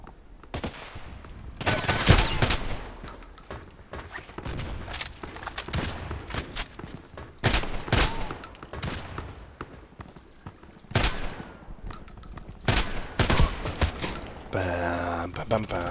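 Shotgun blasts in a first-person shooter game, fired as sharp, loud shots spaced irregularly throughout, with mechanical reload clicks and game sounds between them.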